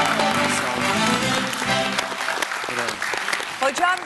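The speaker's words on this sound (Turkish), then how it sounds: "Buradan Galatasaray'a bir alkış istiyorum size." Studio audience on a Turkish talk show clapping for Galatasaray football club, loud sustained applause with voices talking over it and tonal sound running underneath.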